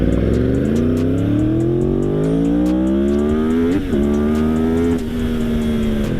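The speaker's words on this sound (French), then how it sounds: "test du R1 200 chevaux." A 200 hp Yamaha R1 motorcycle accelerates hard on a track, its engine note climbing steadily through the gears with brief dips at the shifts, loud and close throughout.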